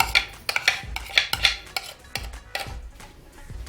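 A spoon stirs ground onion, green chilli and half a tomato in a pan for Hyderabadi chicken karahi, making a series of close metallic scrapes and clinks in an uneven rhythm over a faint sizzle.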